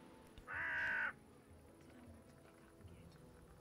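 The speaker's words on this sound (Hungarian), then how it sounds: "Ez egy nagyon hangos varjú volt." A single loud crow caw rings out in The Settlers: New Allies, one sharp harsh call lasting about half a second over quiet game ambience.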